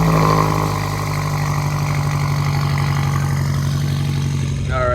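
A car engine idles with a deep, steady rumble close by, rising slightly at the start, during a car spotting outing in Naples, Florida; a voice is briefly heard at the end.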